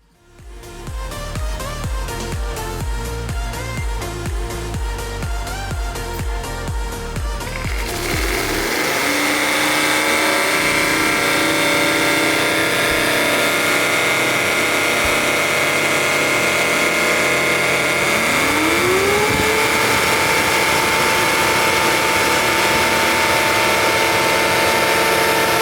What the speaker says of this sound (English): you just put it back on the charging station and there's a button you click and it does a clean cycle